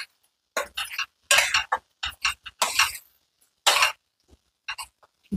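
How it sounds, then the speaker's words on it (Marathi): Boiled, mashed potato is stirred and sautéed in masala in a pan, with short, separate bursts of spatula scraping and clinking against the metal, loud and close, with silent gaps between strokes. "हा पण चांगला त्याच्यासोबत परतून घेते"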